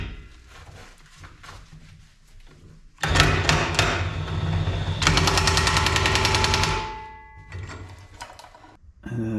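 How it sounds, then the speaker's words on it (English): DeWalt cordless battery impact gun tightening a castle nut on a mower, loud rapid hammering bursts in two long runs, the second sustained for about two seconds, with quieter mechanical clatter between. "The DeWalt battery gun's just not getting it done."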